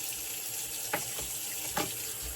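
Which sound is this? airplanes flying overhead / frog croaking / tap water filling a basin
tap water filling a basin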